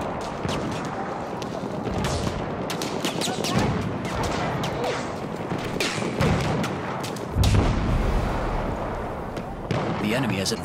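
Artillery barrage pounding a Battlefield 1 rush match, with dense booms and crackling gunfire rolling continuously and a heavier low blast near the middle, under game chatter.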